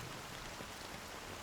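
Steady rainfall patters on surfaces in a scene from the game Honkai Star Rail, a dense, even wash of drops with no other sounds.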